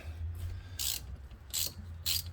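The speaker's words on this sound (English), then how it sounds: "So I'll get these bolts off" A hand ratchet works bolts loose on the 7 1/4 rear differential of a 1978 Roadrunner, three short bursts of clicking pawl strokes over a low steady hum, close by.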